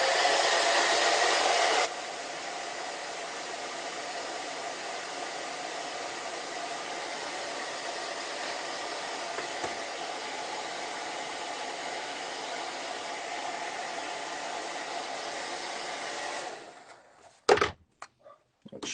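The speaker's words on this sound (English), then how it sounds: "let me dry that with a hairdryer" A hairdryer blows on a painting in a steady loud whirring roar, starting on a higher setting for a couple of seconds then dropping to a lower constant hum, switching off near the end followed by a few handling knocks.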